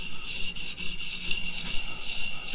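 A Hinderer Firetac knife blade drawn across a knife sharpener in quick, repeated rasping strokes, a close and fairly soft gritty scraping with a steady rhythm.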